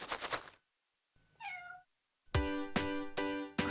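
A cat meows several times in a cat treat commercial, short rising-falling cries standing clear between bursts of other sound, near and fairly loud.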